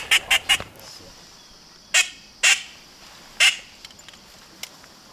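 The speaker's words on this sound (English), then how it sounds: "these are little teal calls that we're running. Have that real nasally raspy sound." Hunters blow small teal duck calls, giving nasal, raspy quacks: a quick burst of three, then three more spaced honks and a few faint ones, close and clear with no talk.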